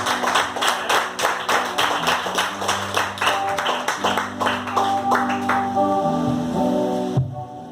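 Congregation at a church service clapping along in a steady rhythm, repeated claps over music with sustained tones, loud and close, fading near the end.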